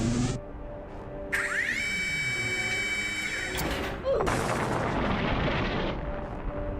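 A heavy surface-to-air battery fires in a video game, booming, rumbling blasts with whistling tonal sweeps running continuously, loud and close, under a voice talking.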